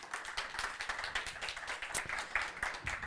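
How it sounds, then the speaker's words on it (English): An audience at a talk on support for people with chronic conditions claps to welcome a speaker, with individual hand claps audible within a moderate, continuous round of applause. "Warm welcome, applaud."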